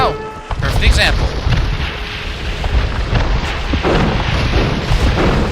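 Cannon galleon shots in the real-time strategy game Age of Empires 2, heavy booming blasts scattered through battle noise while a voice talks over them.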